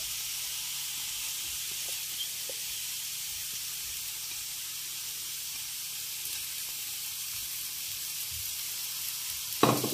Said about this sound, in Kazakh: Енді осы барлығы қуырылғанша қуырып аламыз.